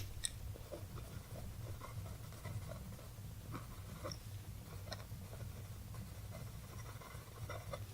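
Pen scratching across paper in soft, irregular strokes and taps, close and quiet, with a low steady hum underneath and no talking.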